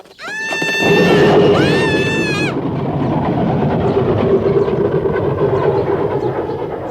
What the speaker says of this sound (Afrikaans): Dis ons trein daai, Heidi, sien jy?